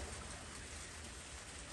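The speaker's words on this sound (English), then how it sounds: "bit rainy and drizzly out today" Light drizzling rain falls outside as a steady, soft, even hiss with no other sounds.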